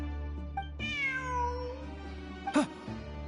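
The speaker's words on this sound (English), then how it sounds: "Look, a cat." A cat meows in a video game, one long drawn-out harmonic meow gliding downward, with a short chirp before it and a brief sharper mew near the end, heard close and clear over a steady background hum.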